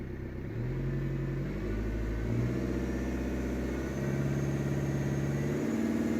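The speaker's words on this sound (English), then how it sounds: "Yeah, rev it up" A Ford Fusion with a black-smoke, no-power fault is revved during diagnosis. The engine idles low, then climbs in pitch and steps up to a held, steady higher rev with a deep rumble, with no talk.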